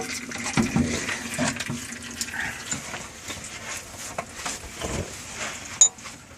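Transmission fluid draining from a 2001 Ram 2500 during a transmission service, a steady thin trickle and splash running continuously up close, with small clanks and handling knocks over it and no talk.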